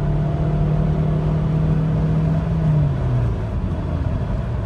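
Alfa Romeo 156 with a 1.9 JTD diesel engine revving steadily upward toward the rev limiter, a loud close drone with rising pitch that eases off near the end, no talk.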